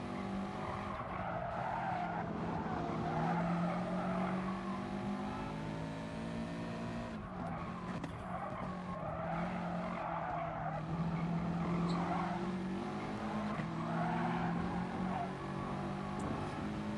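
Engine of a Subaru race car in Gran Turismo Sport, a steady loud drone with rising and falling revs and occasional tire squeal, continuous and close throughout.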